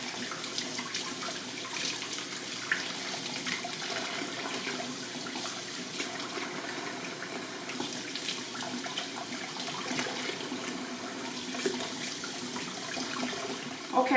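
Tap water runs steadily into a bowl while neck bones are washed in a kitchen sink, making a continuous close splashing hiss with no break.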